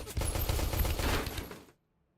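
A C20 submachine gun fires a sustained burst in the space game Space Station 14, dense rapid shots merging into a loud continuous rattle for about a second and a half before cutting off to silence.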